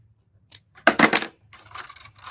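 Scissors snip through paper while trimming a too-long strip for handmade paper treat packaging, a few short close cutting strokes followed by a longer run of quick snips, with no voices.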